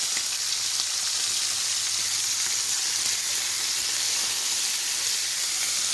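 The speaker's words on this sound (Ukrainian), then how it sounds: "І тепер треба обсмажити їх до такого рум'яного стану, до рум'яної кірочки. З обох боків. От, викладаю шматочки." Pieces of rabbit sear in a hot pan, a constant bright sizzle and hiss of frying that holds steady and loud throughout with no pauses.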